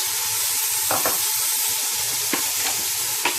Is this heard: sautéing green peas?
yes